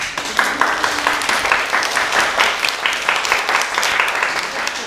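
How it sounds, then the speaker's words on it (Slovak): Audience applause after a children's recitation at a kindergarten in Prešov, dense steady clapping from many hands that fills the whole stretch at an even, moderately loud level. "Ja si myslím, že si zaslúži potlesk"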